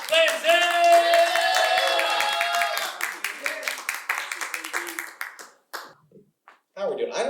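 Audience at a live late-night comedy show breaking into loud sustained clapping for a comedian, the applause thinning into scattered claps before a voice begins speaking.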